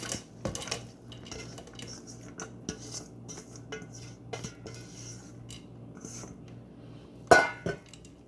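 Nwasser pasta is handled and tipped into a metal couscoussier pot, a scatter of light clinks and rattles with a steady low hum underneath, ending in one louder metallic clatter.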